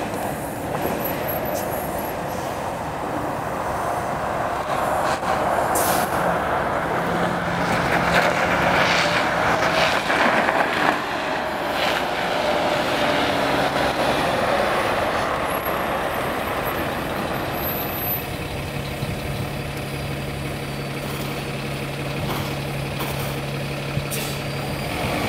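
A New Flyer D40LFR Winnipeg Transit bus undergoing testing, its steady diesel engine drone and hiss holding loud and close throughout, with brief higher squeals and a sustained low tone later on.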